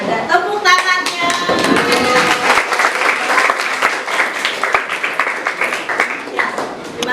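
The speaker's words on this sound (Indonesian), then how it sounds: "Tepuk tangannya." A classroom of children claps together, loud and close, with many overlapping hand claps in a busy burst lasting several seconds while young voices chatter underneath.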